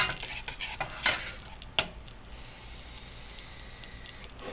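A spoon stirs sticky caramel sauce in a pan, with a few sharp clinks of utensil on metal early on, then soft quiet scraping and bubbling.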